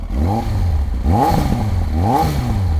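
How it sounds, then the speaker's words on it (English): A used motorcycle engine revs up several times, three distinct throttle blips swelling and falling back to a steady idle, close and loud with some mechanical clatter and no talk. "Give it a few revs."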